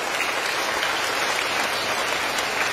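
An audience applauds at a talk honouring mothers, many hands clapping in a dense, even roar that stays loud and continuous from start to finish.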